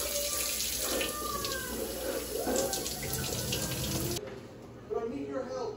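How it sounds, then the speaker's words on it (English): A spoon is rinsed under a running kitchen tap, the water gushing loudly and close for about four seconds before it cuts off, leaving quieter background sounds. "And you gotta rinse it."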